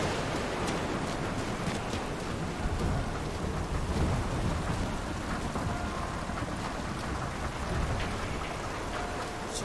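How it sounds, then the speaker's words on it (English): Torrential rain pours down in the video game Mafia Definitive Edition, a constant heavy hiss with low rumbling thunder rolling underneath and occasional sharper drops, no voices. "It's a torrential downpour up here."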